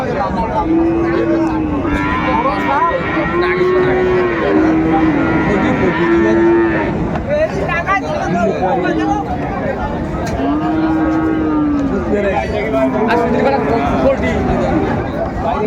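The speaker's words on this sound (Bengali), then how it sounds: "বেশ সুন্দর গরুগুলো।" Sahiwal cattle, young bulls, moo repeatedly at a livestock market, several long low calls close by, over a busy background of people chattering.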